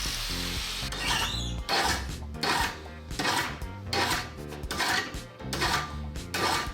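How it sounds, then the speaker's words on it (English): A file rasps a broken metal corner smooth in about seven rhythmic, evenly spaced strokes, each a gritty scrape with brief pauses between. "tried to smooth out the break with a file"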